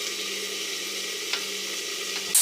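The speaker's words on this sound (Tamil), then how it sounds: "உருளைக்கிழங்கு வந்து நல்லா ஃப்ரை ஆகிருக்கு." Potatoes fry in a pan with a steady, even sizzle that holds for a couple of seconds, broken by a light clink near the middle and a louder knock at the very end.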